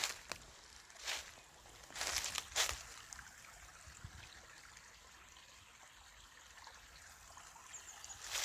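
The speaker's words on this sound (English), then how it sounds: "Yeah, this is the spring right here." Spring water trickling along in an outdoor setting, a faint, continuous soft babble with a few louder nearby rustles and knocks early on, with no voice.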